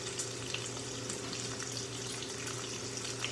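Water runs steadily from a kitchen tap in a hot kitchen where Brussels sprouts and bacon-stuffed pork chops are cooking, a continuous hiss with no talking.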